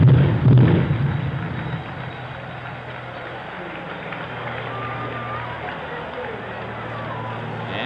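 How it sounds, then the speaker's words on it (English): Fireworks go off at the Oakland Coliseum during a 1968 Red Sox at Athletics baseball game: a cluster of loud booming bursts in the first second or so, then a low rumbling echo and distant crowd noise. "The fireworks go off at the Oakland Coliseum."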